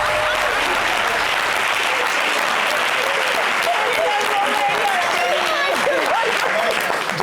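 Studio audience applause on a French-language TV show, sustained dense clapping throughout, with voices speaking over it in the latter part.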